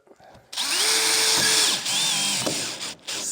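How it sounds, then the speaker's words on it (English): A power drill whirs in a sustained burst, briefly eases off and spins up again, driving screws partway into a wooden miter joint on a contemporary mantel build; close and fairly clean with no talk. "screws most of the way in without driving them home"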